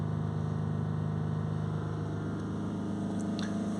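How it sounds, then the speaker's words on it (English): A Range Rover Sport 3.0 SDV6 diesel engine with a turbo overboost fault is held at about 3000 RPM, giving a steady, even drone and hum that stays constant without revving up or down. "So we're just going to hold the revs here on about 3000 RPM for around 5 minutes."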